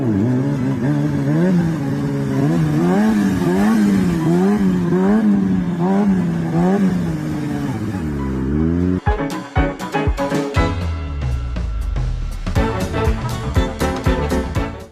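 A stunt motorcycle revs hard and steadily through a wheelie for about nine seconds, its pitch rising and falling in waves, then breaks into sharp clattering bursts and throttle blips, loud and close with no talk.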